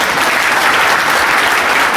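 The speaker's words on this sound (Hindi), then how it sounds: "जरा तालियां तो बजनी" Loud, dense crowd applause at a youth conference during a Jharkhand election rally, with many hands clapping steadily and close for about two seconds.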